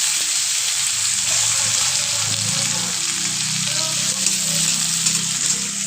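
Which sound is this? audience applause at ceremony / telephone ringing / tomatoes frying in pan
tomatoes frying in pan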